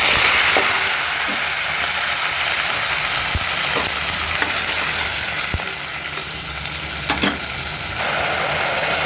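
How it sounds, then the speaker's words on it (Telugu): Chopped onions, tomatoes, green chillies and curry leaves fry in a hot pan with a loud, continuous sizzle and occasional stirring clatter, close up and with no talking. "ఆనియన్స్ టమోటా పచ్చిమిర్చి కరివేపాకు అన్నీ వేసేస్తున్నాను"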